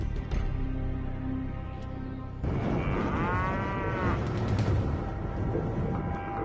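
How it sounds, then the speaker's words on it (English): Cattle moo in a remote cow pasture, a loud, drawn-out lowing call rising over steady outdoor noise and a low background drone, with a couple of shorter moos before and after. "This remote cow pasture"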